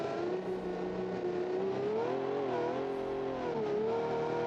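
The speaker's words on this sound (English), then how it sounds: "Definitely not your typical American muscle car engine sound, but that's okay." 1966 muscle car engine in the BeamNG video game, a steady droning tone that rises and dips with the revs as the car accelerates, heard alone without voices.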